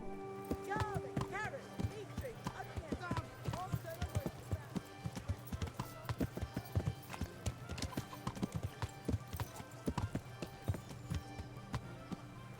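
Steady clip-clop of hooves trotting at a brisk, even rhythm in the video game Kingdom Come: Deliverance, with occasional faint voices and game sounds in the background.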